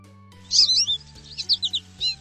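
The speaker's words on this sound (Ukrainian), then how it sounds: "А послухайте, як співає горобчик." A sparrow chirps in a quick series of bright, high tweets in several short bursts over a steady low background hum, fairly close and clear, with no talking.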